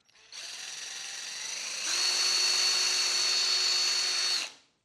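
A drill-powered Rotopower pressure washer spraying in shower mode gives a steady motor whine and hiss that steps up in pitch partway through, then cuts off abruptly.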